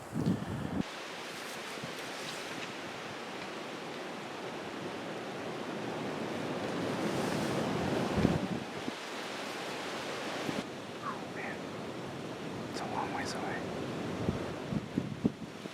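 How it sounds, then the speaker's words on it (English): Strong, steady wind buffets the microphone outdoors on a cold 25-degree day with 20 mph gusts, a broad continuous roar that swells and eases over about fifteen seconds with no talk. "We have 20-mile-an-hour winds."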